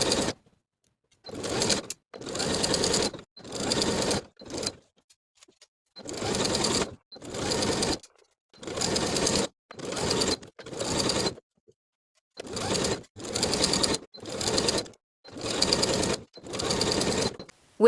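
A sewing machine stitches a seam around the facing of a fitted tie-front cardigan, sewing in repeated bursts of steady rapid whirring with brief silent pauses between them, close and clear.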